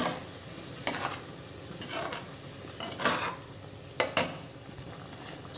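Spinach and coriander puree, blended with a little water, cooking in a pan for aloo palak, with a soft steady sizzle and a few spoon stirs and scrapes against the pan at intervals; no talk.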